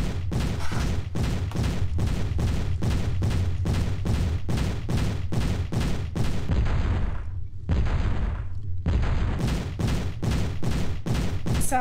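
Heavy gunfire in the video game Haunting Ground, booming like old battleship cannons in a steady rapid series of loud, evenly spaced blasts with one short pause partway through.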